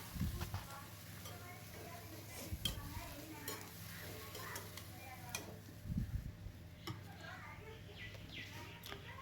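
Ponnanganni greens are sautéed in a pan with a soft, quiet sizzle, while repeated spoon scrapes and low clunks of stirring come through, with faint bird chirps in the background.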